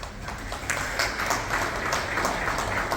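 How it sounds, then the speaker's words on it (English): Audience applause for a speaker at a One Health and Biosecurity conference, a steady wash of many hands clapping throughout, moderately loud and fairly close. "Ladies and gentlemen, please put your hands together for Dr."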